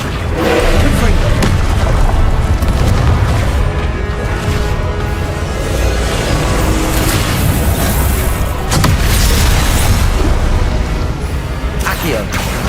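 Repeated Confringo blast spell explosions in Hogwarts Legacy, heavy booms and thuds piling up in a loud, busy fight, with a voice shouting over the clamor.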